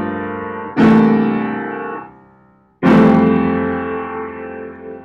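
Two rich piano chords of a jazz 2-5-1 progression ring out, each struck firmly and left to decay slowly, with a pause between them and no voices.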